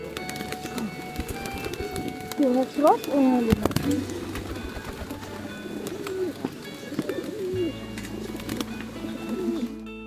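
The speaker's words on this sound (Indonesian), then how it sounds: "merpati-merpati ini langsung antusias terbang dan menyerbu" Pigeons coo and flutter nearby at a floating market in Lembang, with bursts of wing flapping around the middle, over a steady background hum and occasional voices.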